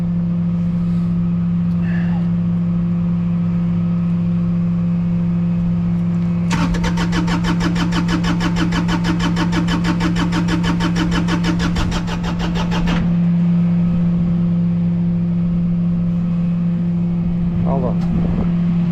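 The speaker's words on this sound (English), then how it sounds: "This one is a tricky machine to start." Engine of a delivered equipment machine cranks for several seconds in a rapid, even chugging burst, then catches and settles into a steady running hum beside a loud constant drone; a voice speaks briefly near the end.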